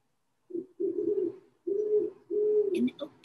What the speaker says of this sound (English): That's a great horned owl.